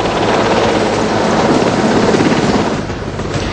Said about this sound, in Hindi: यहां से मोदी इस हेलीकॉप्टर से INS विक्रमादित्य के लिए निकले